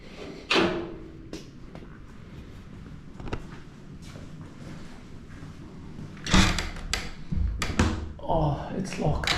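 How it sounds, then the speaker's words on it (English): A locked door in an old village house is tried and rattled, giving a few sharp knocking clatters and thumps amid wind noise, with someone speaking quietly between them. "Oh, it's locked."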